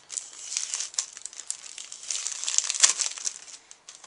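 A plastic resealable bag crinkles while being handled during an unboxing, with irregular crisp rustles and crackles close up, steady over the whole stretch with a few sharper peaks.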